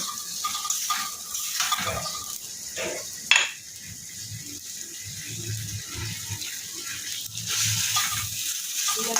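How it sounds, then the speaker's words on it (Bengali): Spices frying in a pan for a Bengali fish and ridge gourd dish, giving a steady close hiss with soft stirring scrapes and one sharp knock partway through. "একটু মশলাগুলোতে একটু ভাজা ভাজা করে দিব"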